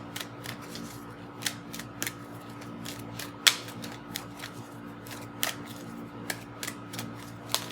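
Angel cards are shuffled close up in a quiet room, giving a quick series of light, crisp card snaps and riffles at an irregular pace, with no talking.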